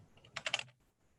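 Short burst of keystrokes on a computer keyboard as a title is typed, a quick cluster of clicks over about half a second, close and fairly quiet, with no talking.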